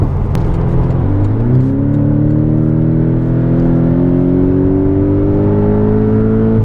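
A Porsche 718 Boxster GTS engine revs up loudly and accelerates, its pitch climbing steadily with strong harmonics, heard close with no talking.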